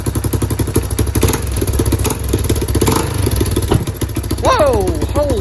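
A dirt bike engine running after brake cleaner was sprayed to help it start, a close, rough, rapid pulsing idle with clattering and brief revs, with a voice calling out near the end.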